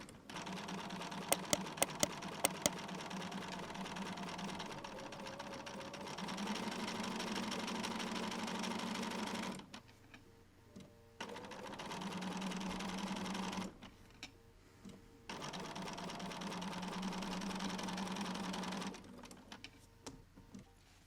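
A sewing machine stitches along the very edge of appliqué fabric at a shortened stitch length. It runs in steady close bursts of whirring with a few sharp clicks early on and brief pauses between runs.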